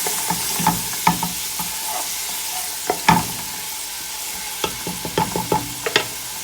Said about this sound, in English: I'm just going to let the onions just go slightly brown, and then we'll fry off our ginger and garlic